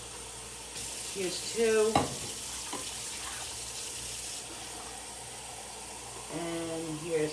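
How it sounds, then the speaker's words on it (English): Three cups of water poured one after another into a pot holding tomatoes, a steady splashing stream that swells and stops between cups, heard close with brief speech over it. "So I'm gonna put 3 cups of water in here."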